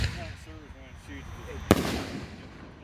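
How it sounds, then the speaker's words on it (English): A Power Storm canister shell from America's Greatest Fireworks, a 5-inch shell, goes off in one sharp, loud outdoor report, with people talking before it and a faint crackling tail after. "we got Power Storm by America's Greatest Fireworks, shell number 2"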